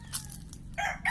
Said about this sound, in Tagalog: Ayan, ang lalaking manok ano.